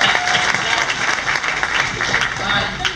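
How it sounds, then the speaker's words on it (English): A theatre sports audience in Vancouver claps steadily for a contestant, a network engineer, with dense, even applause throughout and faint voices mixed in. "you can clap"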